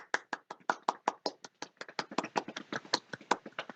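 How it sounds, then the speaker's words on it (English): One person claps alone, a steady run of about two dozen crisp, close hand claps at a brisk even rhythm, fairly soft, with no voices. "Was I clapping for myself?"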